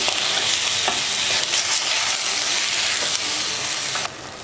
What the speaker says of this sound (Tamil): ஒரு அஞ்சு நிமிஷம் சிக்கன் வந்து எண்ணெயிலே நல்லா வதங்கணும்